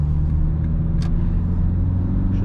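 A Toyota Auris 1.4 D-4D diesel car climbing a hill in fourth gear at around 2500 rpm, heard from inside as a loud, steady low engine drone and road rumble with a couple of faint clicks.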